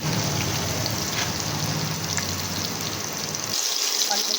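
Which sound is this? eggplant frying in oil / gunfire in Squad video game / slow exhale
eggplant frying in oil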